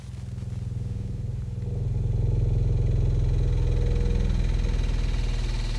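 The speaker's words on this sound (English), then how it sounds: "It's dry ice on metal." Dry ice pressed against metal, giving a loud, sustained, rough buzzing squeal with a low, rapid vibrating pulse, rising slightly in strength partway through and holding steady until the end.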